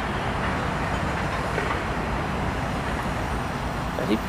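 A CSX freight train switching cars in Cumberland, Maryland, giving a steady rolling rumble of railcars with light clatter, heard from a moderate distance amid ambient road noise.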